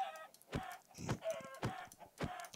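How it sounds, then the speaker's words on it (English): Several chickens cluck in the Minecraft video game, with short repeated clucks in an uneven rhythm every half second or so, fairly quiet and without talk over them. "Now I need to punch these chicken by hand."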